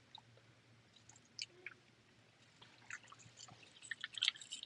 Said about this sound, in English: You can hear the water going.